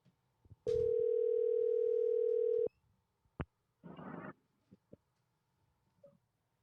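A telephone dial tone hums as a steady, unbroken note for about two seconds while a call is being placed, followed by a few clicks and a short burst of handset noise in a quiet room.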